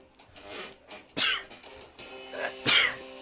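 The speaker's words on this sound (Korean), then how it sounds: "아우 재채기" A person sneezes twice, sharp bursts about a second and a half apart, close and fairly loud, with breathy sounds between them and no talking.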